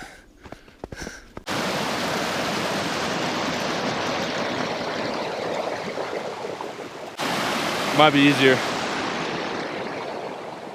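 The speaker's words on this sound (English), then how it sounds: "We're gonna try to cross this river" A rushing mountain river on a Mount Sneffels hiking trip roars in a loud, steady broadband wash close by, starting after a brief quiet opening, with voices talking over it near the end.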